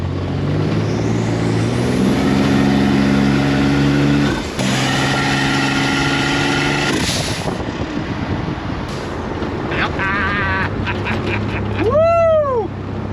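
A rebuilt turbocharged junkyard engine roars loud and close as the car is driven hard, its revving drone rising and falling with shifts, followed by a short whooshing turbo whistle near the end.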